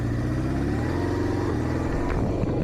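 A 1978 Honda CB550 Four-K motorcycle with its inline-four engine pulls away on a road test, a loud steady close engine drone with a rising tone as it sets off, no talking heard.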